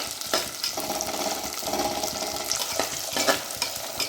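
Small shallots sautéing in a pan for a spicy shallot and garlic gravy, a steady close sizzle broken by the scrape and clatter of stirring, with no talking.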